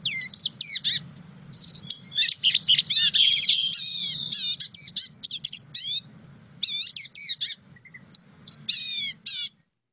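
Rapid, high-pitched songbird calls in bursts of warbling chirps and trills, clear and close, over a faint low hum.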